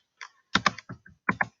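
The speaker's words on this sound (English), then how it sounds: "keep typing." Typing on a computer keyboard: a short burst of about eight crisp key clicks in uneven pairs, close and clear over roughly a second and a half, with no voices.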